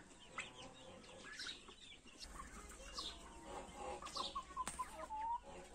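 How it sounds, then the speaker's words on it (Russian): Young Naked Neck hens cluck and chirp softly at close range in a series of short, irregular calls, with faint background rustling and no talking. "К ним сюда вот залетели курочки."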